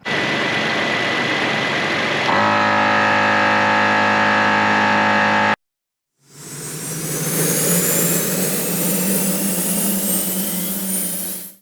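A FlexInflate 4 tire inflation system compressor by Tozalazz airs up tires with a steady mechanical drone, cuts out briefly, then restarts with a rising, airy whir that holds until the end.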